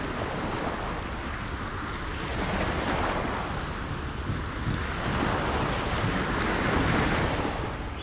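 A storm at sea, with waves surging and crashing in a steady roar under gusting wind that swells and eases in broad waves, loud and continuous throughout.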